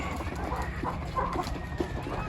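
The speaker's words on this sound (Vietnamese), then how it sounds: "Trong này là đàn gà hơ mông lông xù của em nhé mọi người." A flock of fluffy H'Mong chickens on a hillside farm clucks close by, soft scattered calls over a low background murmur for a couple of seconds.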